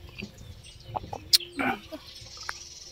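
A chicken clucks a few short notes amid outdoor farmyard sounds on a farm, with one sharp high squawk and scattered bird calls.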